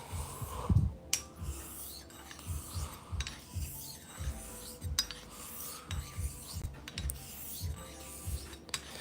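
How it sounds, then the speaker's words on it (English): Rhythmic rasping strokes as a blade is honed on a 6-foot sharpening wheel, a steady series of repeated scraping passes at close range with no talking. "So right now, I am honing on the 6-foot wheel."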